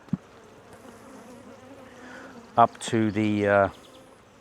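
Honeybees on a brood frame pulled from a hive make a soft, steady buzzing hum up close, with a voice briefly speaking over it near the end.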